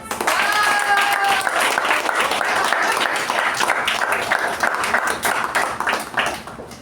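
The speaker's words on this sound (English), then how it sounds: "Welcome Toastmaster Balaji with a huge round of applause" Audience applause at a Toastmasters club meeting installation ceremony, a steady dense round of clapping filling the room for about seven seconds before thinning slightly at the end, with faint voices mixed in.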